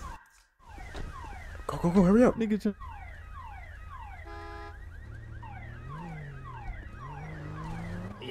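A police siren wails in repeated falling sweeps throughout, with a steady high alarm-like tone and a brief burst of another warbling siren, all fairly near and loud, while excited voices shout over it during a street chase.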